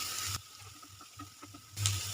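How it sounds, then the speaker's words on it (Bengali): Grated garlic sizzles loudly in hot oil for a Schezwan chutney, the frying hiss dropping briefly to soft crackles before surging again close by. "গ্রেট করে রাখা রসুনটা আমি দিয়ে দিচ্ছি।"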